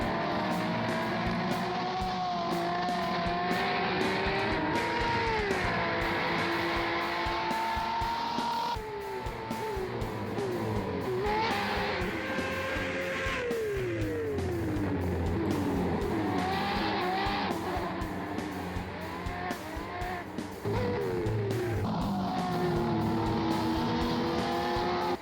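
A Ferrari 599 XX EVO race car laps the Nürburgring GP circuit, its engine screaming and rising through gears with repeated shifts and downshifts, tire squeal under braking, loud and close throughout.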